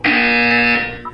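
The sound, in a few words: buzzer in video game Portal 2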